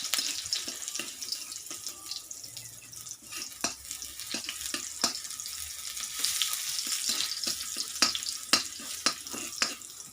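Crushed garlic frying in a small amount of oil in a home kitchen, a steady soft sizzle with scattered sharp crackles and pops throughout, close and moderately quiet, no voices.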